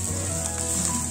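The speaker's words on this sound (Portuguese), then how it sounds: "Agora eu vou dar uma refogada com essa cebola." Chopped large onion sizzles steadily as it is sautéed in a pan, a close, even frying hiss with no break and no talking.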